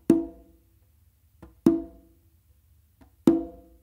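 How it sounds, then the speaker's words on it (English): Three strong, resonant conga hits fall at an even slow pace, each decaying quickly, with faint soft ghost taps between them, played alone and up close. "after doing that, you're actually going to do a slight ghost note with your non-dominant hand"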